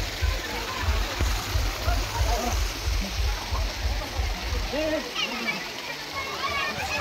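Steady rushing water from a waterfall fills the scene, a continuous roar of falling and splashing water with faint voices in the background.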